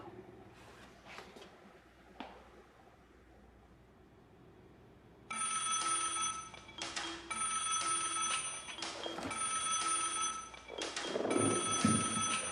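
A phone ringtone starts abruptly after a quiet stretch and keeps ringing in a repeating electronic pattern, fairly loud and close.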